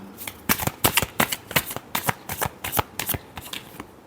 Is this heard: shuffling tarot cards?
yes